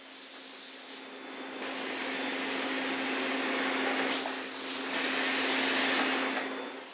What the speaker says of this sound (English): poly bagging machine